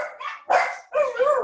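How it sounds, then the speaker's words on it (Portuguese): Dogs barking in three short, loud bursts in close succession, fairly near, with no talk over them. "Agora os cachorros calam a boca."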